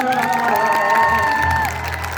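An audience claps and cheers at a stage performance, a dense wash of applause with whoops and shouting voices rising over it, loud and close, then easing slightly toward the end.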